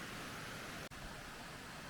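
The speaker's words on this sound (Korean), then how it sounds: "단풍에 가려 찾기 어려웠지만 폭포 소리를 따라 비선 폭포를 찾을 수 있었습니다" Biseon waterfall on an autumn hiking trail sends up a steady, faint, even rush of flowing water from some distance, briefly cut once by a short dropout.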